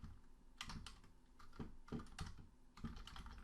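Keys on a computer keyboard are tapped out as a search is entered, a quiet, uneven run of close clicks in small clusters.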